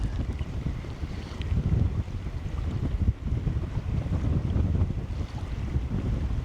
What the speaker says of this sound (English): this wind is just getting to be too much for me